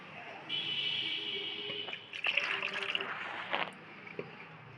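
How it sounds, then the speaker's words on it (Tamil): Leftover cooking water from amaranth greens (araikeerai) is poured into the mashed greens for a kadaiyal, a soft, steady trickle running for a few seconds with small splashes and drips near the end in a quiet kitchen. "இந்த கீரை வெந்த மிச்ச தண்ணியை இந்த கீரையில் கடைஞ்சதில் ஆட் பண்ணிக்கோங்க."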